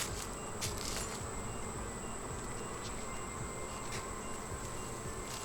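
Honeybees buzzing around a beekeeper working at a new hive, a steady close, continuous drone that holds throughout with a few brief louder swells.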